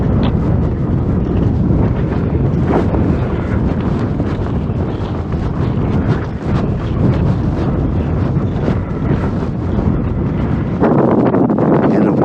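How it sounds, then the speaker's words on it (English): Strong winter wind on Mount Washington buffeting the microphone, a loud, constant roaring rush with gusty surges throughout and no letup. "with the wind, it just doesn't feel good"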